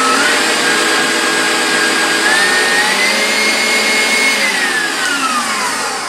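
An electric stand mixer runs loudly on high speed while beating a gingerbread cheesecake batter. It makes a continuous close whirring hum, with a high whine that rises slightly in pitch and then falls, and nobody speaks.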